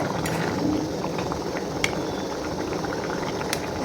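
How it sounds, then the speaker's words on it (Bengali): Potatoes and taro boil in a pot, a close, continuous bubbling and churning with a few soft clicks, heard alone without talk. "ফ্রেন্ড আমার আলু কচু সিদ্ধ হয়ে গেছে"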